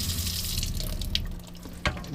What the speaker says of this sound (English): You've got running water here